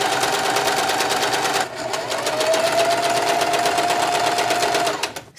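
A sewing machine chain stitches rows of shirring on a top, running in a fast steady rattle close by, pausing briefly before whirring on again, then stopping at the end.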